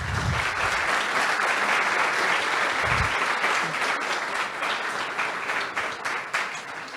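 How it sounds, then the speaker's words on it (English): Audience applause after a talk on RFID badge hacking at the Ekoparty 2023 security conference, a full, sustained wash of many hands clapping that stays loud and then eases slightly toward the end. "another huge round of applause for Boris"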